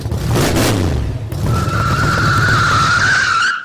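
A getaway car skids with a harsh tire screech, then its engine roars as it speeds off, a loud, sustained whine that persists to the end.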